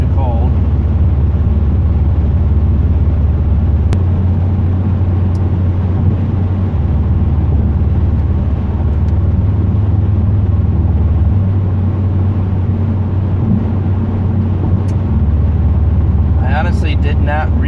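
A 2008 Pontiac Grand Prix GXP with a welded Thrush muffler cruises steadily, its low exhaust drone shifting in pitch as cylinder deactivation cuts in and out, with faint talk at moments.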